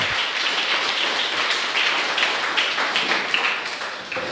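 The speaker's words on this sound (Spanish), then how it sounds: "Denle un fuerte aplauso al Señor." A church congregation gives a loud round of applause to the Lord, a dense, sustained clapping that stays strong throughout with a few sharper individual claps standing out.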